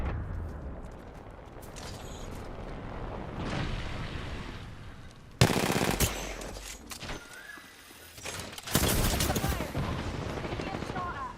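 Bursts of gunfire erupt in a fast-paced Apex Legends match, with loud volleys breaking in around six and nine seconds over a busy game soundscape and a voice talking.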